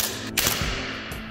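A Milsig M79A2 Nerf-style blaster firing a quick double shot, two sharp snapping pops in close succession heard up close with no talking.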